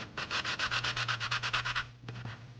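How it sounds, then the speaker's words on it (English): Metal fishing spoon being scrubbed against a coarse-grit sanding sponge, a fast run of about fourteen rhythmic rasping strokes, close and loud, then a short pause and a couple more strokes. "I like to use a coarse grit sanding sponge because I can push the piece down into it a little bit"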